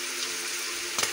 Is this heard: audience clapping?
no